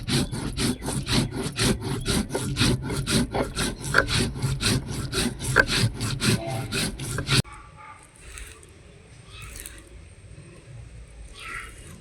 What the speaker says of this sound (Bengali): এখন আতপ চালগুলোকেও বেটে নেবো